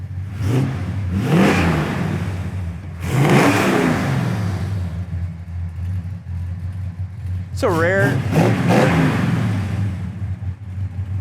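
A 1966 Ford Fairlane 500 GT with its factory 390 engine rumbles and revs in steady low swells beneath someone talking close by, with a brief higher whine near the end.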